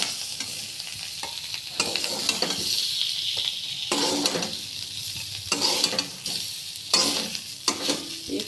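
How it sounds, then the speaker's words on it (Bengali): Cauliflower and potato pieces frying in hot oil in a kadai, a steady sizzle broken by repeated bursts of stirring and scraping that swell and fade throughout. "এই যে দেখেন ফুলকপিটা আর আলুটা আমি এরকম করে ভেজে নিয়েছি হালকা করে"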